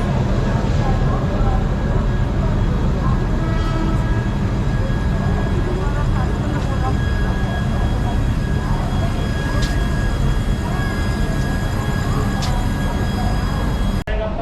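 An Indian Railways Vistadome coach rolls toward Mumbai station, filling the space with a continuous, steady rumble of wheels and carriage noise. The sound is heard from on board, and faint talk sits beneath it.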